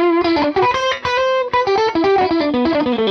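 Fender Custom Shop Masterbuilt roasted '59 Stratocaster played through overdrive with the blender control on, ringing out a steady run of distorted, sustained picked notes and chords that stay loud and close throughout, with no talking.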